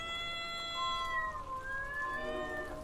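A cat gives a long drawn-out yowling meow that rises and bends in pitch, clear and fairly close against a quiet background, heard at night during rainy monsoon weather.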